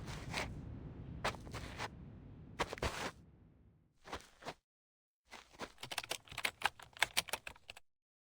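Text typing effect in the Reverse 1999 video game: quick bursts of crisp keyboard-like clicks, short runs separated by brief silences, ending in a denser rapid patter.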